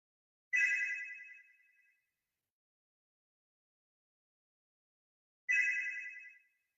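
A telephone rings in two separate bursts about five seconds apart, each ring a clear, moderately loud electronic trill that fades out, with silence in between and no talk.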